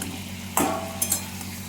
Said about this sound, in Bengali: দেখুন আমার এখানে চিকেন ভাজা ভাজা হয়ে গেছে।